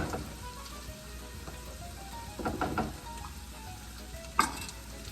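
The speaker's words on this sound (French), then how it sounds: "je suis en train de brunir mes oignons" Onions brown in a pan for penne alla vodka, a steady close sizzle and fry with a few soft stirring scrapes and a brief clink of cookware, no talking.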